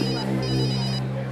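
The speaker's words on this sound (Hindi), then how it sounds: "सर का फोन" A phone ringtone rings loud and steady for about a second, a continuous electronic tone with a brief gap, as the boss calls in a CID office scene.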